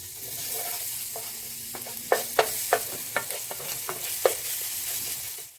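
Crushed, grated garlic cloves fry in two tablespoons of olive oil in a pan, making a soft continuous sizzle broken by a run of sharp utensil clicks and scrapes, close by with no talking.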